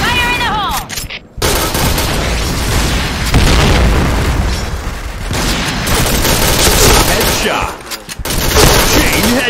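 Grenade explosions in the Point Blank shooter game go off amid steady gunfire, with loud, dense booms and pops filling nearly the whole stretch and only brief lulls between bursts.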